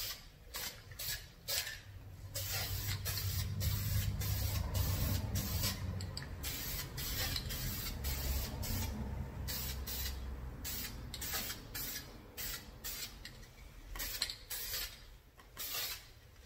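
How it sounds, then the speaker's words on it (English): Spray can of self-etching primer paint hissing in long bursts over sway bar and caliper parts from a Dodge Ram, close and steady with short pauses between passes. "all we want to do is put a light coat of self-etching on these"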